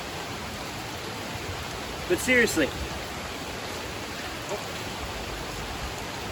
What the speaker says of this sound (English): Who thought there'd be so much rain in the rainforest?